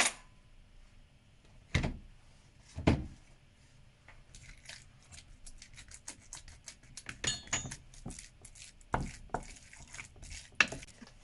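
Minced meat stuffing is worked together with olive oil in a bowl, giving soft wet squelches and occasional clinks of utensil against the dish, quiet and close with uneven pauses.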